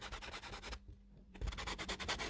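Close, scratchy rubbing over rough, textured dried paint on a mixed media layout in steady strokes, with a brief pause in the middle before the scraping resumes.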